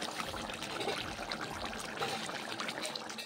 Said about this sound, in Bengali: আর এই ঝোল ফোটার আওয়াজটা কার কার ভালো লাগে?